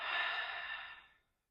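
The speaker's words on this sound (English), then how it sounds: "Inhale through the nose. Exhale through the mouth." A single slow, breathy exhale through the mouth during a guided yoga breathing exercise, close and soft, a steady airy rush lasting about a second before fading to silence, with no talking.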